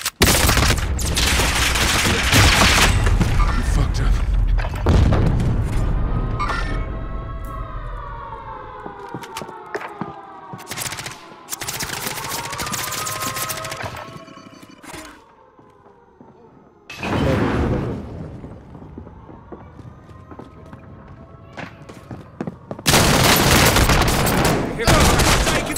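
Bursts of gunfire and explosions ring out in Call of Duty Warzone on Rebirth Island, loud automatic volleys and booms interrupted by a wailing siren-like tone and quieter gaps.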